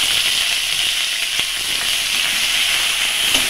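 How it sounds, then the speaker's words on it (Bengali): Green chili and onion frying in oil, an even, close, constant hiss of sizzling with no talk. "তেল দেওয়ার পরে আমি এবার একটু কাঁচা লঙ্কা দিয়ে দেব, একটু পেঁয়াজ দিয়ে দেবো"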